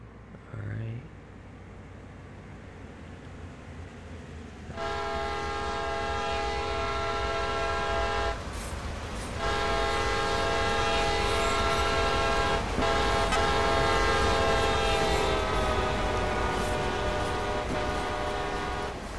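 A train rolls past in the Train Sim World game, its horn sounding in long sustained tones that bend as it passes, over a steady loud rumble of wheels and engine that builds and holds close by.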